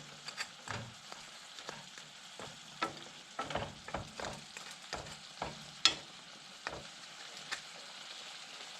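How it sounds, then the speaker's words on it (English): A spatula scrapes and clicks against the pan as a venison stir-fry is stirred, sharp taps over a low, steady sizzle, close and fairly quiet. "You just stir it in there until it's cooked"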